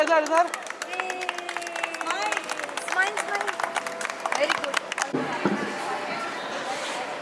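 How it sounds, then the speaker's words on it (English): Parents clap along with crowd chatter at a junior school sports day, with dense and steady applause throughout and an announcer's voice heard over it. "Parents, please give a big round of applause for her achievement."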